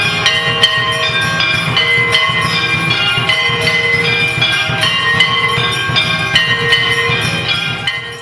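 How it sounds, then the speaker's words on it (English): Temple bells and gongs ring during arti in Vrindavan, a loud, dense, continuous clangor of overlapping metallic strikes in a steady rhythm, with no voices. "the arti going on with the traditional bells and gongs that are played at this time in so many temples in Vraja"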